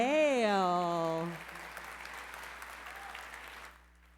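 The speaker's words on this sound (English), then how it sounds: "Let's have a huge round of applause for Amy Hale." Audience applause at a charity gala, a steady broadband patter of many hands filling the room for a few seconds after a voice finishes speaking, then fading out.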